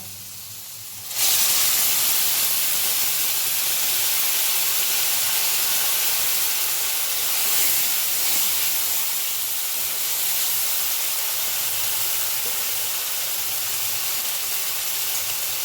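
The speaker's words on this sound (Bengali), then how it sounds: "এবার দেবো কাঁচা লঙ্কা বাটা।" Green chili paste hits hot oil after fried potatoes, and a loud sizzling hiss erupts suddenly after a second of quiet, then holds steady and strong for the rest of the stretch.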